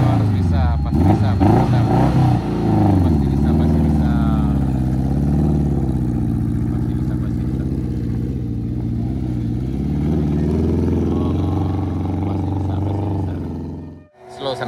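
A car engine roars and revs hard while its tires spin in mud on a steep uphill stretch of new road in West Sumatra, loud and close with rising and falling pitch, fading near the end.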